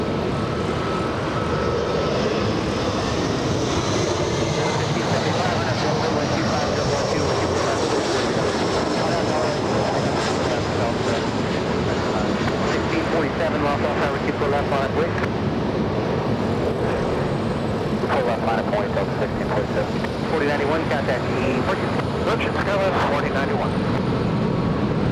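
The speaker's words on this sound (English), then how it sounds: "And we have another E175 coming into land." An Embraer E175 airliner coming in to land at Los Angeles International Airport, a steady loud jet roar with some wind buffeting, sustained throughout, with a voice talking over it.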